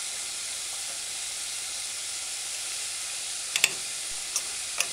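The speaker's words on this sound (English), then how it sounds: "Stir in the rice with the beans" Rice being stirred into beans in a pan on very low heat: a steady soft sizzle and hiss throughout, with a few faint spoon taps near the end, close and without any talking.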